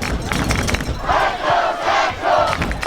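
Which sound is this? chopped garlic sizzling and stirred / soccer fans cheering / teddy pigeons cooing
soccer fans cheering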